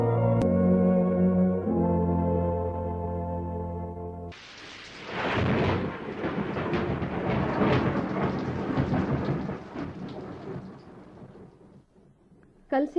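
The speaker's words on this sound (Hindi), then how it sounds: "कल से बरसात की तेज झड़ी लगी है" Heavy rain roars as a sound effect in a Hindi radio drama, a loud dense downpour with thunder-like rumble that swells after a musical opening and runs steadily before fading near the end.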